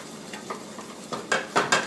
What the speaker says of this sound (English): And now we will brown it a little bit because you want to have a nice color.